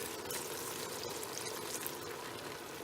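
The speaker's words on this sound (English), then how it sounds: "You have to raise the heat like this and then pour the red wine" Red wine poured into a hot pan of frying meat over raised heat, giving a continuous, even sizzling rush that stays steady for a few seconds, close and moderately quiet.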